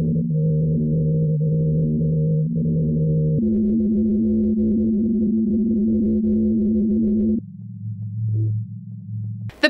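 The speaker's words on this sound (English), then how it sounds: "The winds blowing across the snow dunes is what causes the humming" Humming of the Ross Ice Shelf, driven by wind over snow dunes and picked up by seismic sensors, plays back as steady low droning tones that step to new pitches in several sustained blocks, with no voices.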